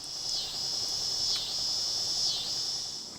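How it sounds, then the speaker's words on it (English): Cicadas drone outdoors on a warm day of around 70 degrees, a loud, continuous high-pitched buzz with slight rises and dips, steady throughout with no voices. "the cicadas feel like that is the perfect opportunity for them to emerge and scream their lungs out"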